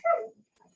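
A dog gives a single short bark, fairly close but not loud, followed by a faint softer yip or whimper.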